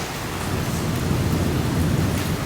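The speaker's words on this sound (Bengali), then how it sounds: "ঝড় বৃষ্টি কি জোরে যে আসছে" Heavy rain pours down steadily during a thunderstorm, a dense roar of noise with low thunder-like rumble underneath, no voices.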